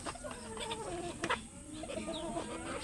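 A hen clucks steadily in short, rhythmic bursts close by, with a faint chirp and light background noise, no talking.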